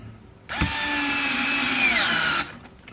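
A Phillips screwdriver drives a screw into an IKEA Kallax drawer with one steady, close motorized whir lasting about two seconds, with no other sound around it.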